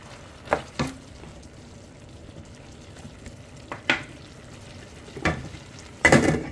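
Green beans for kare kare hit a hot pan, giving a low steady sizzle broken by a few sharp clatters and stirring knocks, ending in a louder burst of frying near the close.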